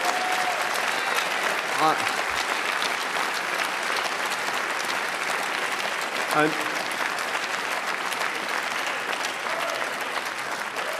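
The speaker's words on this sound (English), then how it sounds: "I hope somebody will clip that as a round of applause for the good people of West Burton in Nottinghamshire" Audience at a Conservative party conference in Birmingham gives sustained applause, a broad, steady wash of many hands clapping that fills the hall, with a speaker's voice briefly heard over it.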